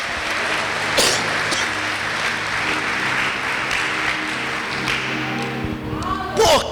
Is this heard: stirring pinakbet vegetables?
no